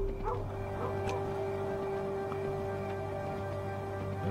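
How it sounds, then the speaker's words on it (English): Dogs in Kingdom New Lands give a few faint, distant barks and yips over a steady droning background hum, spaced out rather than continuous. "does seem to be some more barking going on over here."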